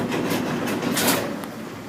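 A cable car runs with a steady mechanical hum and rumble, overlaid by soft rhythmic whooshing swells as it moves along.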